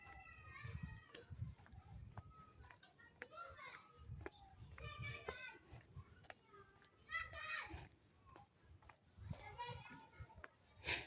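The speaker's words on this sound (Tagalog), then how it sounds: "Ayan ang mga boses ng mga bata." Children's voices fill a school grounds in New Zealand, a lively babble of shouts and chatter rising and falling at a moderate distance, with bursts of high calls scattered throughout.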